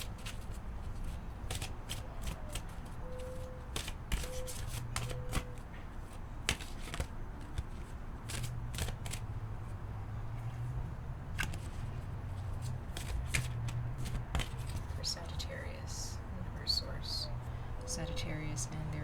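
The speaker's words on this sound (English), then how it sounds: "I'm going to pull 2 cards for you" Tarot cards being shuffled close up, a run of quick crisp riffling slaps and flicks repeating throughout, with a voice speaking softly over them.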